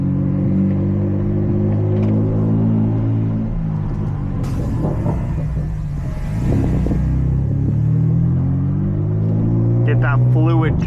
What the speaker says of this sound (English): Let's go drive this around the parking lot real quick, just to make sure our rear diff doesn't have any fun noises